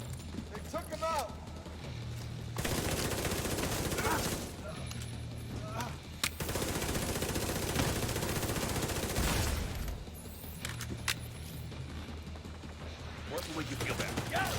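Gunfire in The Division 2, long dense bursts of automatic fire and mechanical clatter alternating with short pauses, loud and sustained, with voices talking in between.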